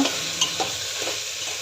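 Asafoetida being stirred into a frying mixture in a pan for a mixed vegetable khichdi, a loud constant sizzle with a few light spoon scrapes near the start, close up.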